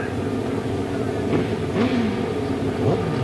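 Racing sidecar engines at the start of a 2003 European grasstrack semi-final rev together in a steady, dense drone, with pitch rising and falling as riders blip the throttles before the start.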